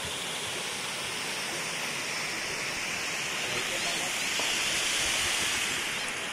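Khandi waterfall near Pune, a steady broadband rush of falling and flowing water that is continuous and moderately loud, with no breaks across the span.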